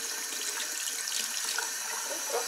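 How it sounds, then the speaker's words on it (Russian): Tap water runs steadily into a container at home, a continuous close splashing hiss lasting throughout with no voices. "Включаем воду."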